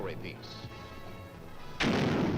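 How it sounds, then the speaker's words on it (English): A recoilless rifle fires with a single loud, sudden blast near the end, after a stretch of quieter ambient noise on an old Korean War-era army film soundtrack. "the miracle weapon of them all, the recoilless rifle, an easy firing weapon packing the punch of an artillery"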